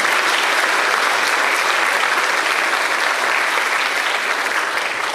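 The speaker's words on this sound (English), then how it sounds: "How about a round of applause for all of our students?" Sustained, dense applause from an audience at a school board meeting honoring students, a loud steady wash of many hands clapping with no gaps throughout.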